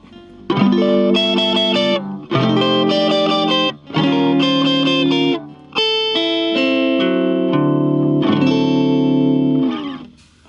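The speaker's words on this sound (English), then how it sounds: "here's a pedal off, just some guitar" Clean electric guitar playing chords in bursts with short pauses, bright and ringing with no pedal and no amp reverb, alone and fairly loud.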